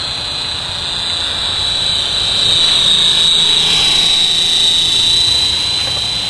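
An RC helicopter fitted with a dynamic stabilizer flies past at low head speed, its rotor whine a steady loud tone that swells as it comes nearest, heard alone.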